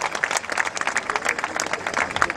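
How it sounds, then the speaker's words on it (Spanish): Audience applause for a singer at an international bolero festival, steady dense clapping filling the hall at moderate level throughout, with faint crowd murmur underneath. "Démele un aplauso"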